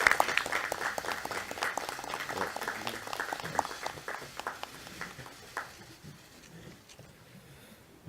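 Applause from a political party gathering welcoming Nam Kyung-pil back into the party: dense, sustained clapping from a room full of people, strongest at the start and thinning out over several seconds until only scattered claps remain.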